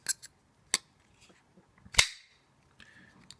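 A flipper knife blade is flicked open several times, giving sharp, crisp metallic clicks and snaps. The loudest snap comes near the middle, with lighter ticks before and after and quiet gaps between.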